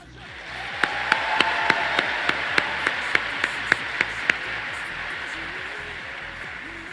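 An audience applauds with a steady wash of many hands, while one sharper clapper beats a regular rhythm through the middle. The applause swells briefly and then thins toward the end.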